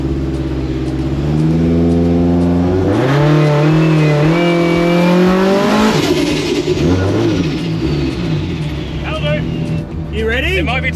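A V8-swapped Lexus IS200 daily driver, heard from inside the car, revs hard with rising and falling engine pitch over a continuous loud drone as it drives.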